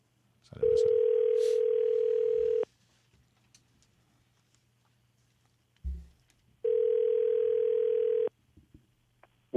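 Two long steady telephone ringback tones, each about two seconds, sound clearly while a call is placed, with a soft click between them and no talking over the rings.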